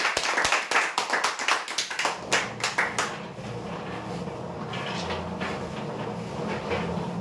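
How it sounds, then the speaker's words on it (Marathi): Clapping for prize winners at a lucky-draw event starts as sharp distinct claps for about three seconds, then fades into a softer, rumbling background wash. "जोरदार टाळ्या होण्यासाठी."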